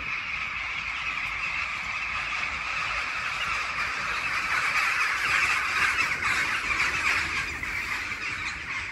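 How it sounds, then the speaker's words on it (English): Crows caw at a wild camp in Scotland, a hiss of steady background noise, likely a fire or wind, running under faint calls that carry from a distance for about nine seconds. "crows are flying about. I love that."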